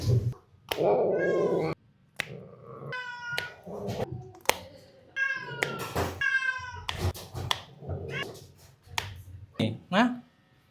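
Tompok the cat yowls and screams in repeated drawn-out cries, close and loud, with short pauses and a few sharp snaps between calls.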